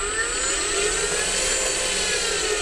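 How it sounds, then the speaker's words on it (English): Battery-powered ACE ascender motor running slowly with the throttle feathered, a steady high-pitched whine that holds close and even throughout with no talk. "you'll hear as well from the way the motor works, I can actually get this to really go really quite slowly"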